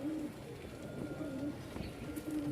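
Giribaz pigeons from Rajshahi coo close by in a short burst of low, rolling, repeated calls over a steady background hum, with no speech.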